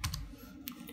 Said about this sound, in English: So hit Ctrl V on the keyboard to paste